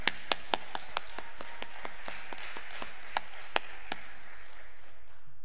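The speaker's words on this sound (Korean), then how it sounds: "하나님 앞에 큰 영광의 박수 올려드리겠습니다" Sharp, separate claps ring out in a church service, a few loud strikes at a steady pace with quieter, sparser claps between them, spaced out rather than forming full applause.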